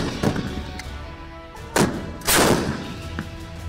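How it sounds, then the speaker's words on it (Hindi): An M777 ultra light howitzer fires on a border deployment, sending out a few sharp booming blasts. A heavier, longer report follows the first, all over a rumbling background. "यह धमक M777 अल्ट्रा लाइट होविट्जर तोप की है जो भारत चीन बॉर्डर पर तैनात की गई है।"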